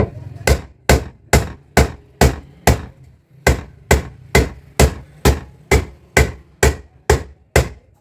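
Sharp metallic hammer strikes on the rim of a Hawkins pressure cooker being repaired with a die plate ring out in a steady rhythm, about fifteen blows with a short pause partway through, close and loud.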